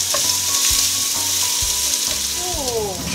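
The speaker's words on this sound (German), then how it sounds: "So, die Schalotten und der Knoblauch ist angedünstet." Shallots and garlic, later joined by zucchini, sizzle steadily in a hot frying pan, a continuous close frying hiss with faint stirring clinks and no voices.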